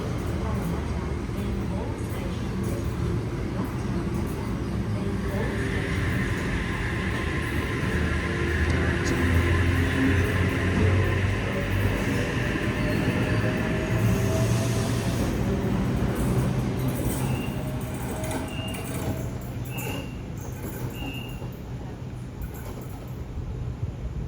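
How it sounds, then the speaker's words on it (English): A train creeps slowly along the North Shore Line after a brake failure, a steady low rumble and rolling drone continuing throughout with faint squeals, while people talk nearby over the noise. "This train is slowly moving along here."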